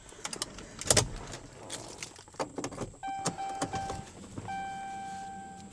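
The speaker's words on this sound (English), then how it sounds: "Give her a couple key cycles, prime the old fuel pumps." A car's ignition key is cycled to prime the fuel pumps, giving clicks, key jingles and short electric pump whines that hum for a second or two, close by with no talking.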